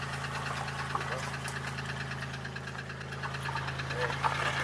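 A 2002 Chevy Malibu engine idles steadily with a low hum and a faint knocking vibration, close by, while a voice talks intermittently over it.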